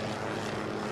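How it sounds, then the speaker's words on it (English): Military helicopters flying overhead in Afghanistan: a loud, continuous engine and rotor roar filling the air, with no talking. "There are some military choppers flying above us right now."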